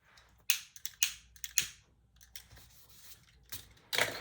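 Thread scissors snip thread during sewing, a series of sharp, close, crisp cuts at irregular intervals with quiet handling between them.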